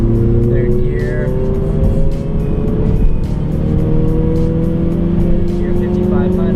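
A big-turbo BMW 135i pulls hard, its engine drone rising steadily in pitch under continuous cabin noise, with a voice speaking over it.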